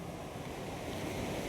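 Arabian Sea surf rolling onto the beach below the cliff at Varkala, a steady broadband wash of waves mixed with wind noise, continuous and fairly close.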